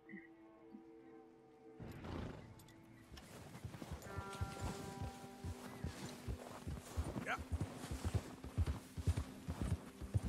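Horse hooves in the video game Red Dead Redemption 2, rhythmic clip-clop steps starting after a brief pause and continuing steadily, with someone talking over them and soft music underneath.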